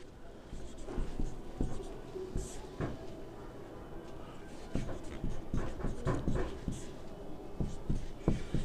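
A pen writes on paper up close in a steady series of scratchy strokes and taps as a Hindi application letter is written out, with small knocks and paper movement in between.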